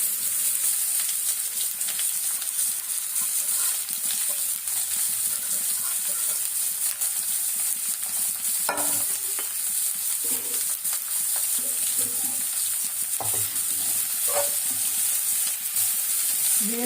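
Chopped cabbage and carrot stir-fry in a hot pan, a continuous close sizzle broken by occasional scraping and clinking of a spatula as the vegetables are turned.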